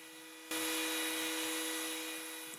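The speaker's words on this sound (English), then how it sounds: "I can then switch to a sanding bit and smooth down the edges." A high-pitched RYOBI rotary tool with a sanding bit whines steadily after a short quiet start, a continuous bright buzz that slowly fades slightly.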